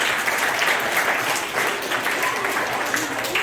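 Audience at a school quiz competition applauding a house team, a steady dense wash of clapping that holds at an even level throughout.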